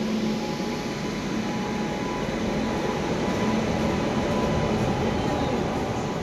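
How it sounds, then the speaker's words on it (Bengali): A steady, loud rumble of the Gour Express rolling slowly into a station, with a constant mechanical drone and faint high squeals. "এই দেখো ট্রেন ঢুকছে, গৌড় এক্সপ্রেস"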